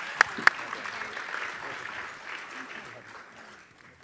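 Two sharp, near claps ring out at a National Security Action Summit, followed by a soft spread of scattered audience applause that gradually fades away.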